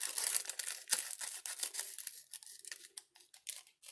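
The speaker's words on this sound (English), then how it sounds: "let's see how easily I'm going to be able to fussy cut this lady out" Scissors snip around a small paper swan sticker with a tissue-paper doodle strip, a run of close, quiet crisp cuts and paper rustles in uneven rhythm, with no voices.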